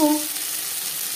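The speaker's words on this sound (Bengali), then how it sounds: "এভাবে ভাজতে হবে যাতে পুড়ে না যায়।" Garlic frying in a pan gives a steady, soft hiss, and a brief voice at the start fades under the continuous sizzle.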